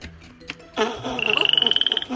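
A pet frog kept by a small child croaks in a fast run of about a dozen rasping pulses, close and fairly loud, after a few brief knocks and handling noises.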